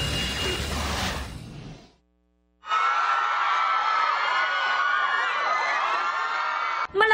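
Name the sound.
fans loudly cheering for BTS members Jimin and Jungkook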